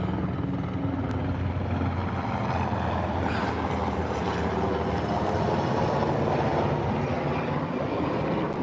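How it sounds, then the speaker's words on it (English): Sikorsky Black Hawk helicopter passing overhead with a loud, continuous rotor thrum and engine roar that holds steady throughout, with no talking. "so that's a Sikorsky Blackhawk that just went over."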